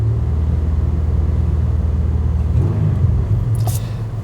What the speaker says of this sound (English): If I rev it up, this will change.